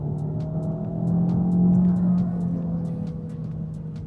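An Opel Astra GSe sport hybrid accelerates with a smooth, swelling motor hum that rises in the middle and then settles, heard from inside the car.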